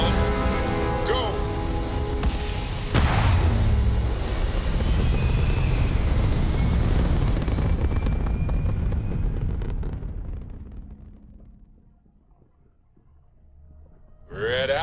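A spaceship lifts off in Starfield with a loud, sustained engine roar and rumble that holds steady for about nine seconds, then fades away to near quiet before a brief new sound at the very end.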